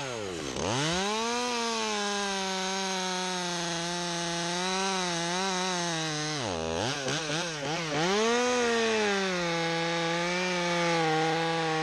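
A chainsaw cuts a big open-face notch in a standing tree, engine running loud and close throughout, its pitch dipping and revving as the chain bites into the wood, with no talk.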